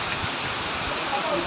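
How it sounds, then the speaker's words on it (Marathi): Heavy monsoon rain at Marleswar in the Konkan, a steady dense hiss of rainfall pattering on surfaces, close and continuous, with faint indistinct voices underneath. "पाऊस बघा खूप आहे वरती।"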